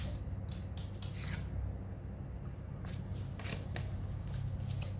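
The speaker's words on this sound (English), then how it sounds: "We're just gonna pull some cards real quick and see what comes out." Tarot cards being shuffled in quick bursts of soft riffling and flicking, close and steady over a low background hum, with no talking.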